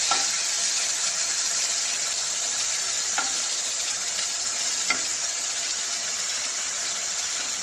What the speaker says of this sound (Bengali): তো আমি চিংড়ি মাছগুলো ভেজে নিচ্ছি।